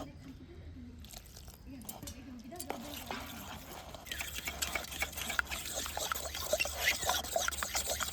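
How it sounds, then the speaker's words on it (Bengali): Water poured a little at a time into salted flour in a bowl for an egg paratha batter, a soft trickle and wet mixing that grows busier and louder in the second half, with faint background noise throughout. "ময়দা আর লবণটাকে ভালোভাবে মিশিয়ে নিয়ে ওই বাটিতে দিয়ে দিচ্ছি প্রথমে 1/2 বাটি জল"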